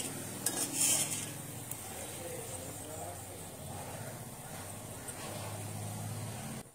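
A spoon scoops roasted sago mixture and raisins out of a hot pan, with a few metallic clinks and scrapes at the start over a low steady sizzle and hum.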